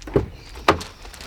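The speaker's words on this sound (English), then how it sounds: "Door opens nice and wide" Hyundai Kona Hybrid car door opening: a soft latch click followed by a heavier thunk, two brief close sounds with no talk.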